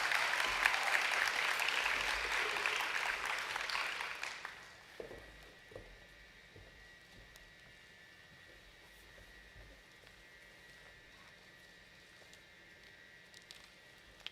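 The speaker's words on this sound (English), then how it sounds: "feel free to applaud and cheer for these students on their special day" An audience at a white coat ceremony applauds loudly for about four seconds, then the clapping fades out, leaving quiet room tone with a few scattered claps.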